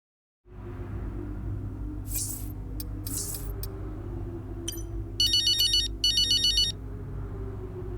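A phone rings in the F1 23 racing game. Two bursts of a bright electronic ringtone sound late in the clip over a steady low engine-like rumble, with no voices.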